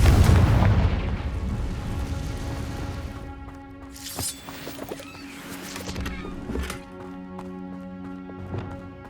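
A Confringo fire spell explodes in Hogwarts Legacy with a loud opening blast and rumble that decays, followed by scattered crackling impacts and sharp debris bursts over a sustained musical tone.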